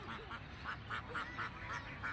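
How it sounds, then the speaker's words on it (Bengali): Ducks quack in a steady series of about eight short, nasal calls, evenly spaced and fairly faint over a soft background hiss, with no talking. "এই পাশে হাঁস আছে, হাঁস ডাকতেছে"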